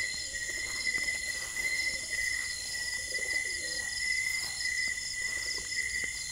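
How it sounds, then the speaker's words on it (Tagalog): Soft, low cooing of pigeons inside a house repeats faintly beneath a steady high insect or electrical whine, with no voices. "Ay, may mga kalapati."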